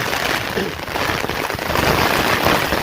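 Heavy continuous rain pours down on a stormy village day, a dense, loud hiss of drops filling the whole moment without pause.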